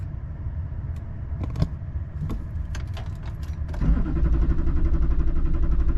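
A 2005 Duramax LLY diesel in a 2500 pickup cranks over without firing, its starter settling into a loud, steady, low churning drone after a few light clicks and rattles.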